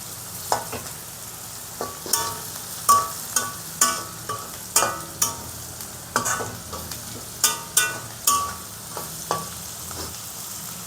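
Vegetable fried rice with fried rice powder is stirred in a pan over a steady sizzle, a spatula scraping in regular strokes roughly every second, close and clear with no talking.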